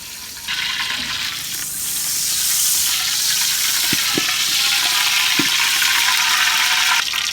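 Mutton cooks in hot oil in a pot, making a loud, steady hiss and crackle with a few soft knocks, held close at the same level throughout.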